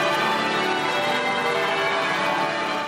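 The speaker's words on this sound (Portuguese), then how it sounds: "os sinos badalaram por 2 minutos." Church bells ring out to mark the King's moment: a dense, continuous peal of overlapping metallic tones, steady and loud with no voices.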